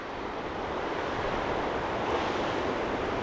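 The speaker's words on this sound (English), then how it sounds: "It's fun to watch the waves crash over on this rock too." Pacific Ocean waves crashing over rocks in a cove, a continuous roaring surf wash with a slight swell midway and some wind buffeting.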